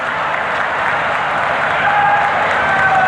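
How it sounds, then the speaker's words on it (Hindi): A large crowd in a pavilion at an investment summit in Rudrapur, Uttarakhand, applauds steadily, a dense, even patter of clapping that swells slightly toward the end. "ताली बजाकर उनका स्वागत करिए"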